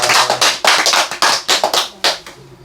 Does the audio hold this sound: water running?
no